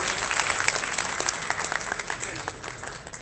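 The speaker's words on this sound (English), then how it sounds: "may we have a very big round of applause to ma'am for this wonderful talk" A conference audience at an inauguration session applauds with steady, dense clapping from many hands, fairly close and even throughout with no pauses.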